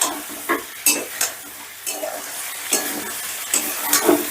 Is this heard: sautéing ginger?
yes